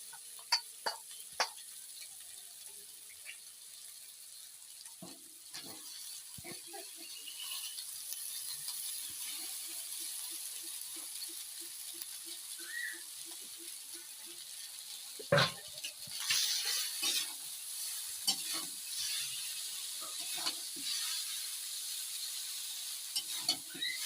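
Chowmein noodles are tossed in a pan with salt for a restaurant-style dish, giving a soft, steady sizzle with scattered scraping and clanking utensil sounds and a short run of rhythmic clicks, with no talk.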